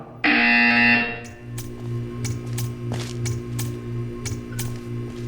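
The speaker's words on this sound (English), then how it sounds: "You will hear a buzzer." A loud, harsh buzzer from the video game Portal 2 blares for about a second, then cuts off, leaving a low hum and scattered faint clicks.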